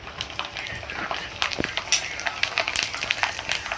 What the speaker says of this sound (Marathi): इकडं मी भजी आता तळणार आहे